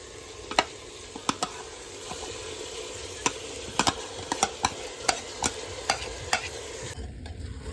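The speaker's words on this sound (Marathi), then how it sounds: "आता तांदूळ मिक्स करून घ्यायचा आहे." Soaked basmati rice for veg pulao is stirred in a pot over a steady sizzle, with a string of sharp, close scrapes and taps of the spoon against the metal at irregular intervals.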